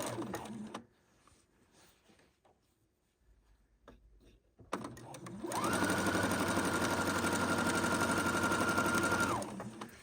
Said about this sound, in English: I'm just sewing down 2 or 3 inches and relining up my fabric